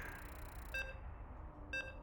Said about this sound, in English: As you can hear the beeps.